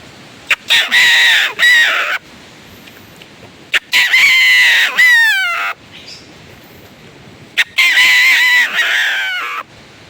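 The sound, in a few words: horn imitating rooster crowing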